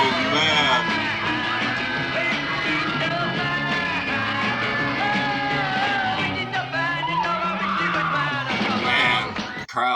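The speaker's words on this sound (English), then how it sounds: "Listen to that crowd. That is the screams of elation right there." A huge concert crowd roars and screams continuously, loud and overlapping, with surges of high-pitched yelling rising over the din.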